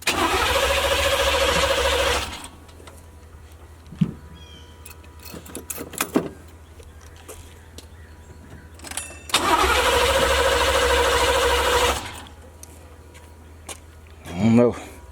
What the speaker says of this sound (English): Just crunk it up. We just fired up.